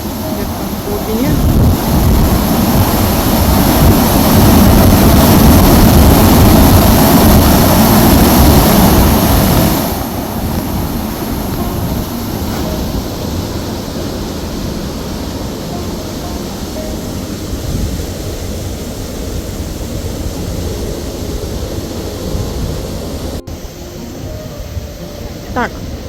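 Water roars and rushes deep inside a hand-operated lock on the Rideau Canal, a loud, continuous broadband churn that is heaviest for the first ten seconds and then eases to a steadier, lower rush.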